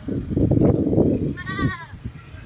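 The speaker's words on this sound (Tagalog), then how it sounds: "Alaga ng kambing." Farm goats in a rural province of La Union, Philippines, give a single bleat after a stretch of low rumbling background noise.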